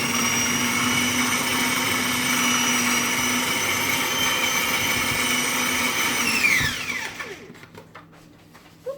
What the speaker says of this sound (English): I'm also going to chop it in my food processor.